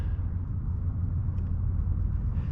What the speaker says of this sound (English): Hear that car? That's the Blue Ridge Parkway.